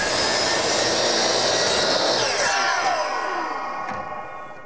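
A hand saw cuts PVC trim to length at an exterior door bottom, giving a loud, continuous rasping stroke close by that slowly fades over a few seconds, with no talking.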